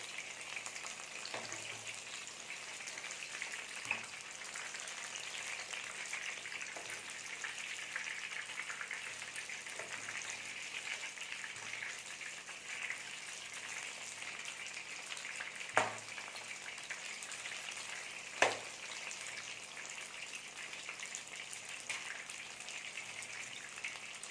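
Vanjaram fish chops frying in oil: a faint, continuous hiss of bubbling oil with soft crackles and a couple of sharper pops or clinks, steady and unbroken for the whole stretch, no speech.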